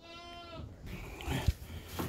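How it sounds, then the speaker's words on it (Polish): Goats bleat inside a barn on a cold day, a few short, nasal cries close by with faint shuffling between them. "Wejdziemy do naszych kózek."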